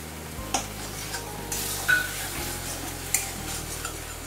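Poppy seed paste is stirred in hot oil in a pan, a soft sizzle running steadily under a few light scraping and tapping strokes of the spoon, close and fairly quiet.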